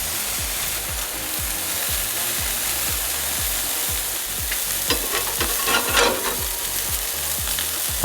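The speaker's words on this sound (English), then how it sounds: "I'm going to place burgers on here" Wagyu beef burgers sizzle on a hot grill beside toasting buns, a loud, steady frying hiss with a regular scraping rhythm near the mic.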